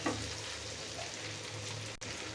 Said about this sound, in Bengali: এই তো আমি বেশ কিছুক্ষণ এভাবে তেলের উপরে এটা কষিয়ে নিচ্ছি মগজটা